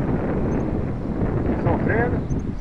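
Gusty wind buffeting the microphone at a model airplane flying field, a rough low rumble with a faint engine whine rising briefly in the middle.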